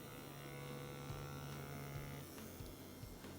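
Tattoo machine lining skin, a quiet steady electric buzz with a low mains-like hum, running continuously with a few faint clicks and no speech.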